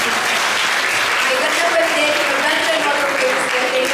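Loud, steady applause from an audience at a stage performance, dense clapping that runs evenly throughout, with a voice heard faintly underneath.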